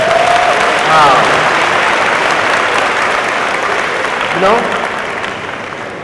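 Sustained audience applause fills a university homecoming convocation hall, steady and loud throughout, with a few spoken words and whoops over the clapping.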